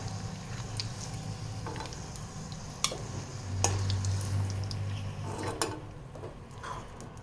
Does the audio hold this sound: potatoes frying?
yes